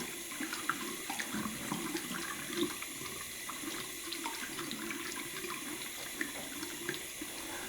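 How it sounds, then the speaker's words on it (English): Tap water runs steadily into a bowl set up for soaking a badger shaving brush, a continuous close splashing hiss with small irregular gurgles throughout and no talking. "I'll actually allow the water to continue to run"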